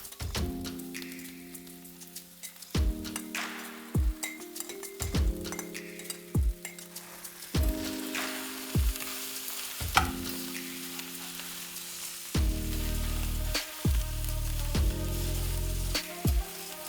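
Dumplings sizzle in a hot pan for Korean dumpling fried rice, a steady frying hiss broken by repeated scraping stirs and clunks, with a louder, fuller sizzle near the end.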